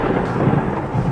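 Thunder rumbles through a storm in a continuous heavy roll, dense low-frequency booming with a steady wash of rain beneath it, loud and unbroken for the whole moment.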